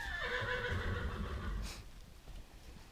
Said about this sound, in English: Horse is outside